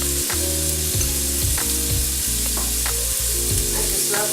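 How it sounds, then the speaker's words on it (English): Tomato half sautéing in a pan for a salmon and cucumber dish, a steady close frying sizzle with stirring scrapes, heard alone without talk. "Now I'm going to add my tomato"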